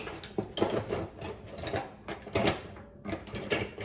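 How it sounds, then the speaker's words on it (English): Close, irregular clatter and scraping of small objects being shuffled and knocked together in a kitchen drawer, in quick uneven bursts. "If you can hear me digging in my drawer"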